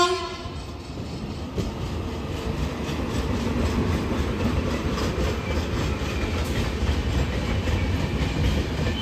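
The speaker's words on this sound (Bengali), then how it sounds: "বর্ধমান জংশনের থ্রু পাস যাবে এক্ষুনি গান্ধীধাম হাওড়া গরবা সুপারফাস্ট এক্সপ্রেস" Gandhidham–Howrah Garba Superfast Express running through Bardhaman Junction without stopping, a loud steady rumble of wagons and rail clatter filling the whole stretch, with a short horn note near the start.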